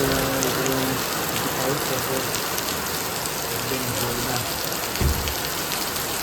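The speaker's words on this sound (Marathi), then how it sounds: "जोरदार पाऊस आला जोरदार" Heavy rain pours steadily in a dense, loud hiss, with a brief muffled voice and a knock partway through.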